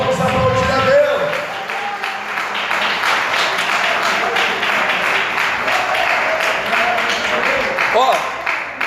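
A church congregation claps together during a sermon, a dense, steady wash of applause holding for about seven seconds before fading, with brief voices at the start and end.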